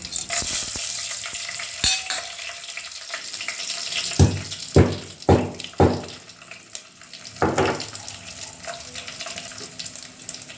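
Spices frying in a few spoonfuls of hot oil in a pan for chicken pulao, a steady sizzle with several sharp scraping stirs and clatters around the middle, close and fairly loud.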